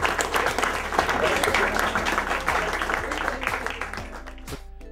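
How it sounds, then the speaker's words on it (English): Classroom students applaud themselves after a lesson, a brisk burst of clapping that thins out toward the end over a low steady hum. "I want you to give yourselves a round of applause for doing what you did."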